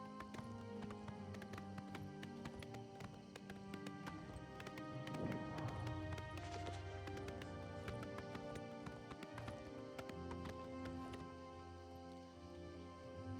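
Rhythmic clip-clop of a galloping horse's hooves in The Elder Scrolls IV: Oblivion, steady and continuous beneath a tonal musical score throughout.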